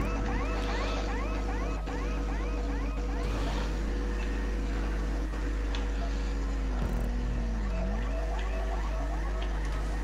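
Motorcycle engine in GTA V, a continuous droning hum with a steady low tone and pitch that dips and rises as the bike slows and speeds up, alone and close.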